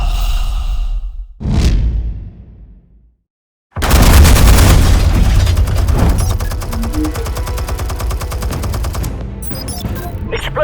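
A large explosion set off in Batman: The Telltale Series after a brief earlier burst, a loud, sustained roar with crackling debris and rumble that holds for several seconds and then tails off.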